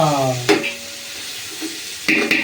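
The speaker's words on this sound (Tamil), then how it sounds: "அதனால நம்ம கிண்டிக்கிட்டே இருக்கோம்." Mint leaves being stirred as they fry in a biryani pot, a soft sizzle broken by a few sharp scraping knocks of a spoon against the pot, following a brief tonal sound at the start.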